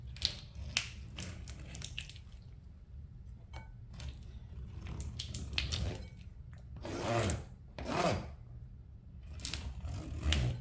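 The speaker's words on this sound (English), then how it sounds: "As I scrape this off, it'll just release the honey." A bowl sits under crushed honeycomb as it is scraped, giving faint soft crackly scraping and sticky crunching sounds in short irregular strokes, quiet and close, with a few louder scrapes near the end.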